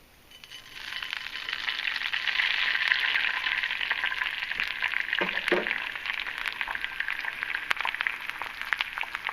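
An egg frying in melted butter in a cast iron pan gives a steady, moderately loud sizzle that swells in after a quiet start and holds evenly, with a few faint clicks and a brief low bump midway.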